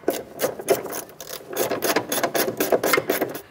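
Bolts are run by hand into the upper control arm of a 2008–2012 Honda Accord, making a close, rapid series of metallic ratcheting clicks in uneven bursts, with no talk.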